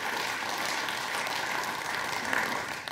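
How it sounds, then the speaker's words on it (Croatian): A studio audience at a late-night talk show claps in a dense, even burst of applause that holds steady for a few seconds, with no talk over it. "Dajte veliki aplauz. Bravo."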